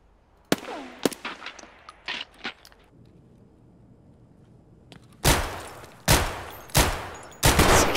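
Gunfire in Escape from Tarkov: a few scattered single shots and short bursts early, a quiet stretch, then four loud, evenly spaced heavy shots close by.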